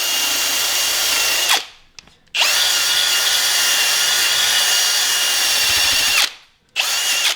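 A power drill polishing Jeep Hemi engine cylinder heads to remove corrosion whines loudly and close up in long steady runs, cutting out briefly twice before starting again.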